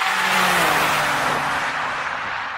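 BMW 3 Series Touring wagons, from Alpina to diesel, drag racing: a loud, close engine roar under hard acceleration, the pitch climbing steadily as the car pulls away.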